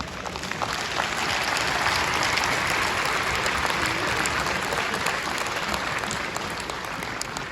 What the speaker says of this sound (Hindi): उनके लिए इतनी ज़ोरदार तालियां बजाएं